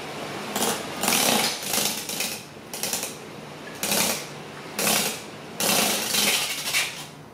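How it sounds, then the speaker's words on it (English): A homemade DIY tattoo machine motor buzzes loudly and close in a series of separate bursts, each revving for about half a second to a second, with short pauses between them. "You gotta let the motor speed up a little bit."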